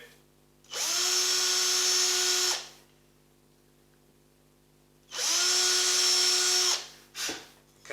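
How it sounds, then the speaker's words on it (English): A power drill with a 2mm bit bores holes during a sanshin build, in two loud sustained whirring bursts of about two seconds each, separated by quiet, followed by a brief final blip. "so I've drilled those holes down a bit"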